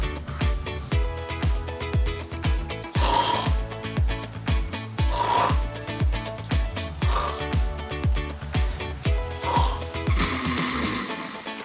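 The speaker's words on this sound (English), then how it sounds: "Your wife said that you have a snoring problem." A man snoring in a comedy sketch, a rapid rattling, mechanical-sounding snore in close repeated pulses with louder rasping swells every couple of seconds.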